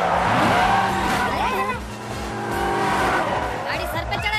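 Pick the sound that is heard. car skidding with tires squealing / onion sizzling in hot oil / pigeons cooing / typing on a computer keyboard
car skidding with tires squealing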